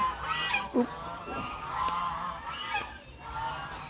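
Farm fowl honk and call in a Thai countryside setting at Rai Thong Sombun, a few loud goose-like honks standing out over ongoing background noise, with no talk.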